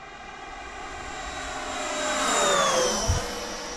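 An Avanti S v2 RC jet powered by a 6S 10,000 mAh battery passes overhead at about half throttle, its ducted-fan whine rising and then falling in a Doppler sweep as it flies by, with a brief thump near the end.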